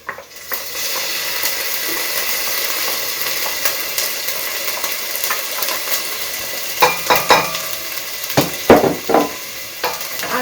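Ginger frying in a pot with a steady broadband sizzle throughout, joined near the end by a few sharp clinks and scrapes of a utensil stirring against the pot.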